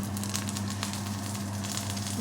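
Dorado fish grilling sugba-style over an open fire, a steady close sizzle with scattered crackles and pops over a constant low hum.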